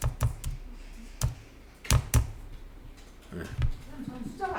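Keys tapped on a computer keyboard while entering a corporate registration number into accounting software, a few sharp clicks in short bursts with pauses between, close and fairly clear, no talking over them.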